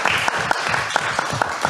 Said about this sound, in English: I do want to thank the Geneva Press Club. Just a round of applause